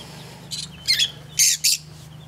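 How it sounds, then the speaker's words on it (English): A backyard flock of Rhode Island Red and barred Plymouth Rock chickens, lovebirds and a conure sits in the sun, giving about four short, sharp, high chirps spaced over a couple of seconds against quiet background. "Three Rhode Island Reds. Five barred Plymouth Rocks. Three lovebirds. And a conure."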